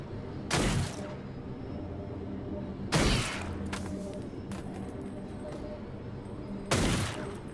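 Pistol gunfire in a video game: three sharp, loud single shots spaced a few seconds apart, each with a brief ringing tail, over a quiet background.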